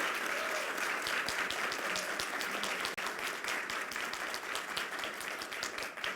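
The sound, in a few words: round of applause for Marta, Senate secretary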